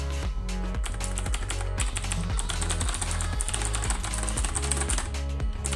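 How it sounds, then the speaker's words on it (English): Rapid clicky key presses on a PXN 8X arcade fight box fitted with blue keyboard switches, steady tapping under a bed of rhythmic background music. "Let's get typing."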